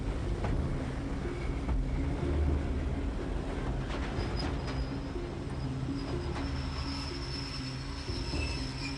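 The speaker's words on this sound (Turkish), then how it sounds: "Tren geli, tren geli," A train rolls past on the railway, a continuous loud rumble of wheels on track with faint metallic squeals and clatter running the whole way through, no voices over it.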